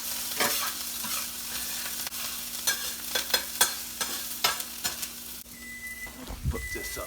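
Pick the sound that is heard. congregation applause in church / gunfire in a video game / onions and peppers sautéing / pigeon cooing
onions and peppers sautéing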